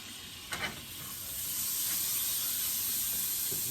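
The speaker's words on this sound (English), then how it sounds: "Get the butter all melted." Butter melts and sizzles in a pan for beef tips and rice, a couple of soft clinks giving way to a steady, building hiss of frying close by.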